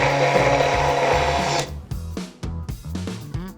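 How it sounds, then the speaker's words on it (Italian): A blender whirs loudly as it purées cooked pumpkin with hot water, a dense steady motor roar that cuts off partway, followed by a few clattering knocks and scrapes. "infine la frullo."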